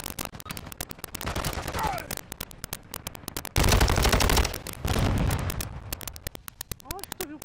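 Rapid bursts of automatic gunfire and heavy explosive blasts in DMZ Warzone 2.0, a shooter video game, come loud and close in irregular volleys, with voices talking between them.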